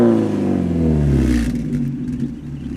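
A Mazda Miata with a new exhaust runs close by, a low engine rumble rising in pitch as the revs climb, then easing back to a steadier drone.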